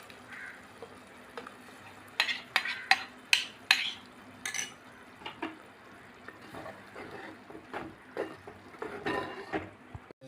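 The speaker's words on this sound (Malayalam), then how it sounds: "നമുക്ക് അരപ്പ് അങ്ങോട്ട് ചേർത്ത് കൊടുക്കാം." Spoon stirring ground coconut paste into a homestyle drumstick leaf (moringa) curry in a pot, with scraping, clinking strokes that come in irregular bursts, close and moderately loud, and no talking.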